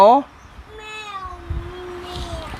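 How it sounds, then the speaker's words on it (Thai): A cat gives a short, drawn-out meow at close range, followed by quiet background noise and a little indistinct household sound. "แมวเหมียว"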